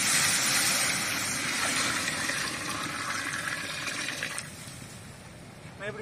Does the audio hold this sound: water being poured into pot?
yes